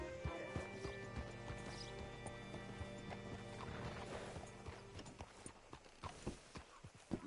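Horse hooves clip-clop with an occasional neigh in the Red Dead Redemption video game, steady close hoofbeats over a dense ambient bed, growing sparser and more distinct toward the end.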